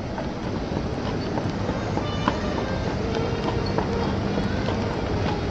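A horse-drawn carriage rolling through Central Park in autumn, with hooves clip-clopping in a steady rhythm under a constant wash of wheel and road noise.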